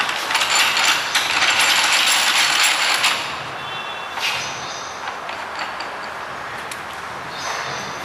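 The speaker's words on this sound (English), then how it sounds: "Then you tight these screws." A ratchet tightens the injector screws on a machine, producing a dense, loud, fast clicking burst for about three seconds followed by quieter scattered clicks and mechanical noise.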